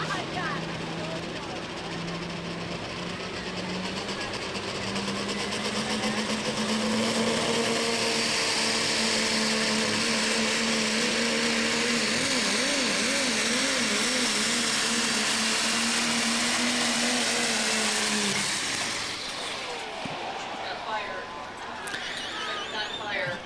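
A diesel pickup truck roars at a county fair truck pull as its turbocharger fails, a loud sustained engine drone with a rising, wavering whine that cuts off abruptly near the end, leaving crowd and background noise.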